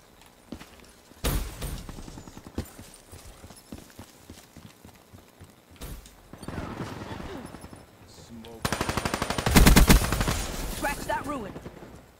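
Bursts of automatic gunfire from the Weevil gun in Black Ops 3 gameplay, rapid rattling volleys recurring through the stretch, loudest and densest near the end, with game sounds around them.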